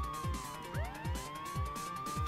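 Ambulance siren from a video game, a wailing electronic tone sweeping up and down over a rhythmic pulsing game soundtrack, steady and fairly loud with no voices.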